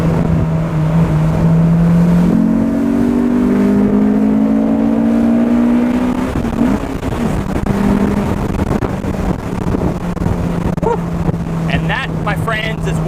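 A Honda S2000 engine drones while driving through a turn, its pitch climbing and then easing off, steady and loud under buffeting wind noise.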